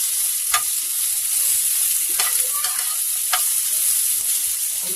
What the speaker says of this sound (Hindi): टमाटर और प्याज डाल देंगे। इसे अच्छे से हम सोटे कर लेंगे